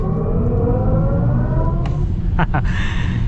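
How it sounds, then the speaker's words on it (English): Synthetic sport-mode drive sound from a 2024 BMW iX electric SUV, a steady layered electronic hum with rising tonal bands inside the cabin, joined by a few short sharp clicks and whooshes near the end. "Makes the cool sound effects when you're in the sport mode."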